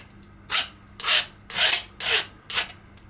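A hand file rasps across the cheap hardened guide bearings of a small 6x4 metal-cutting bandsaw, five close, loud strokes in a steady rhythm with short pauses between, no talking.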